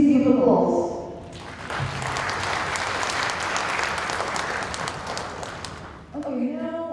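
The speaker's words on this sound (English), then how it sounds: "please give applause" Audience members applaud at the close of a session at an international symposium on the 2018 tsunamis. Someone speaks briefly before the clapping rises into a sustained round of moderate loudness, then fades as he resumes talking.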